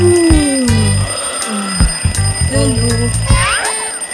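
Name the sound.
alarm clock ringing in the morning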